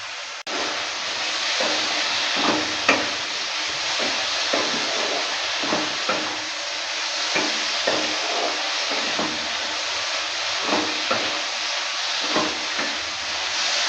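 Masala for a Bengali eggplant and small-fish chochchori sizzling in a pan with a little water, a steady loud hiss broken by regular scraping strokes of a spatula stirring it.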